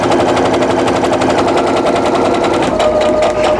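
A sewing machine stitches down the side of quilt pieces for flying geese blocks, running in a steady, fast mechanical rattle at close range, with a slight change in pace near the end.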